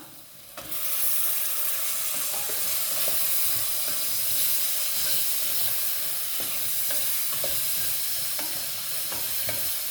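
Tomatoes sizzle steadily in a hot pan while being stirred for chicken biryani, a continuous loud frying hiss with scattered scraping taps of the spoon throughout.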